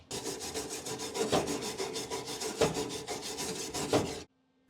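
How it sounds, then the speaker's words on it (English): A wire brush scrubs over a fresh weld on a custom-fabricated steel firewall, making close, harsh rasping strokes in a steady back-and-forth rhythm for about four seconds before stopping abruptly. "Where's my wire brush?"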